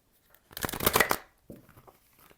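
A deck of oracle cards is shuffled in one quick riffling burst of crisp flutters, followed by a few softer taps and slides as the cards settle.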